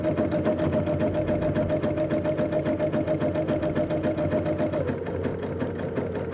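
A sewing machine stitches around the edge of a quilted owl pot holder, its motor running steadily with a fast, even needle rhythm that holds for several seconds before easing slightly near the end, loud and close.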